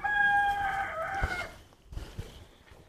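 A desi hen on a poultry farm gives a drawn-out call, followed by a few low, soft clucks close by, with quiet rustling in between.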